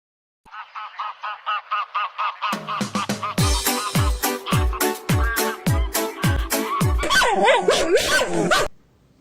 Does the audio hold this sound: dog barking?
yes